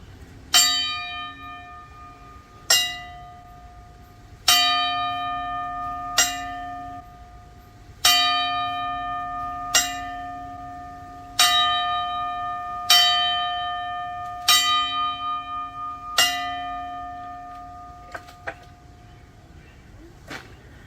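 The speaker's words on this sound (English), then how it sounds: "quick 10 bell salute for Tim" Ten slow, evenly spaced strikes of a ringing bell sound a memorial salute at a wrestling tribute event, each clang loud and clear with a long sustained tone decaying into the next.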